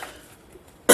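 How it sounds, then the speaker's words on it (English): A single sharp cough bursts out near the end after near silence, loud and close. "I'm really getting over this cough though."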